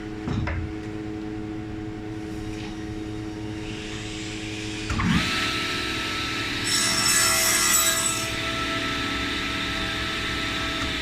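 Saw blade cutting wood to shape a dovetail on a sushi tray, a steady motor drone broken by a sharp bite of the blade and a louder rasping cut midway, close and without talking.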